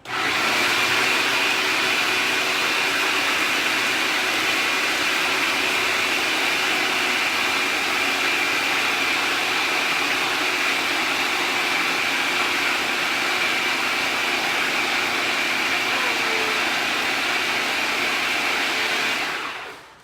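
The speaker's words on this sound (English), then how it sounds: "Then I'm gonna just get that in the food processor." A food processor blends golden raisins, coconut and salt, giving a loud, steady motor whir that runs unbroken for about twenty seconds before cutting off at the end, with no talking.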